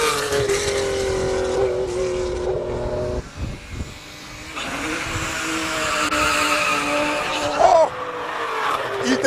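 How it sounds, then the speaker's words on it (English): A BMW E36 burning rubber at a classic car speed event gives a loud sustained tire squeal with roaring engine, wavering pitch, a brief dip midway and then continued screeching. "we need to talk about the E36 that's burning rubber like that"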